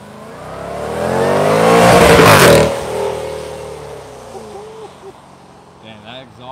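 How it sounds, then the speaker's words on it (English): A 2021 Jaguar F-Pace SVR revs, the exhaust swelling into a loud close roar that peaks and fades, followed by someone speaking over the settling engine. "damn, that exhaust is beautiful. Wow, beautiful exhaust."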